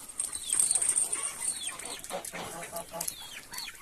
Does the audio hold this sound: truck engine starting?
no